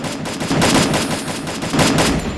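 Rapid automatic gunfire from the mobile battle game Free Fire, loud sustained bursts of shots rattling continuously through the whole stretch with no talking.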